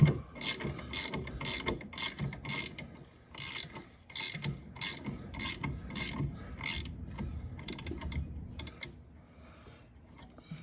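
A 14 mm ratchet wrench loosens a bolt on a Toyota Tacoma during a lift and strut install, its pawl clicking in repeated quick bursts of rapid ticks with short pauses, close and fairly loud, with no talk.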